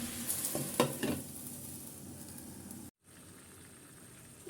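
Mixed vegetables fry in oil in a pan while being stirred, giving a steady close sizzle with a few scraping stir strokes early on and a brief cut to silence near the end.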